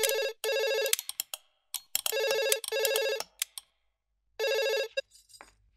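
A telephone ringtone sounding in loud repeated electronic bursts with short gaps between, close and clear with no talk over it.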